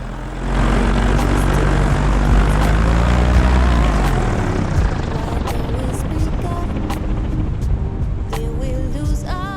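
Paramotor engine droning steadily and loud while coming in to land, a continuous propeller buzz with a falling pitch sweep partway through and wind rush underneath.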